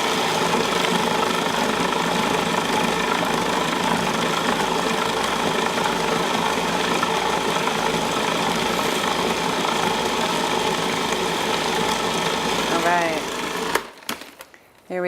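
A kitchen mixer churns a thick chocolate mixture in a loud, steady, continuous whir that runs almost unbroken, then cuts off near the end into a few short clatters.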